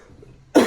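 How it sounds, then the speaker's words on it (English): A single short, fairly loud cough from a nearby person, alone after a quiet moment. "A cough."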